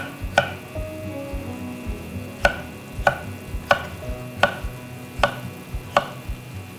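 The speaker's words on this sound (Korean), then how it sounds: "다시 길이로 반 잘라서 썰어주세요." A knife slices lengthwise through a halved summer vegetable on a cutting board for a beef and summer-vegetable soup rice dish, giving about seven sharp, evenly spaced chops up close with no talk.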